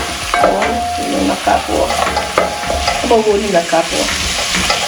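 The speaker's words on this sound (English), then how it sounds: "I'm going to put in my onions" Onions fry in a pan and are stirred, so a loud, close sizzle is broken up by repeated scraping and clacking of a utensil against the pan, with no speech.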